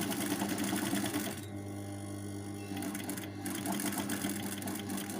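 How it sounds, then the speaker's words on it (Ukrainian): Sewing machine running steadily while a decorative topstitch seam is sewn along the last side of a fabric table napkin, a continuous close mechanical whir with a brief lighter pause midway. "розвертаємо і прокладаємо оздоблювальну строчку по останній четвертій стороні"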